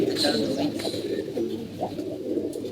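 Pigeons coo close by in low, throaty, rolling calls that repeat and overlap against a busy background of pigeons bathing in water.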